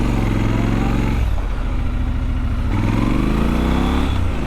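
A 2022 Triumph Scrambler 1200 XE with an aftermarket exhaust pipe growls loudly while being ridden, its engine note rising, dipping as it shifts and rising again through continuous acceleration.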